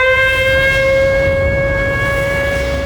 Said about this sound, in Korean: 사이렌이 울리고